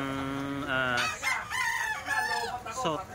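A young rooster, a stag, crowing up close, its harmonic call breaking into several strained bursts, loud and clear.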